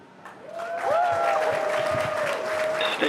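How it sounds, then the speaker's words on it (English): Crowd at SpaceX headquarters in Hawthorne cheers and applauds after a Falcon 9 first-stage booster lands, a loud sustained roar of clapping and shouts that swells within a second and holds, with a mission announcer's voice and tones running over it. "if you can hear that cheering, everyone here at Hawthorne is very excited"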